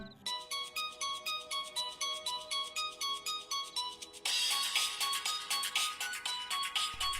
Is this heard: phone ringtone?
yes